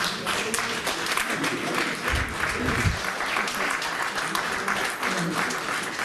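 A town hall audience claps, a dense spread of hand claps running steadily through the whole stretch at moderate loudness, with a few lower thumps partway.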